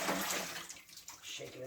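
Rinse water is dumped out of a plastic salad container of packaged greens, producing faint, uneven splashing and pouring that dips in the middle and then picks up again.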